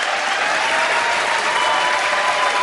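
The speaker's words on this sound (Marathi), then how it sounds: "जोरदार टाळ्या वाजा त्यांना" An audience applauds the 2025 competition champion at a trophy and sash ceremony, with dense, steady clapping that fills the whole stretch at an even level.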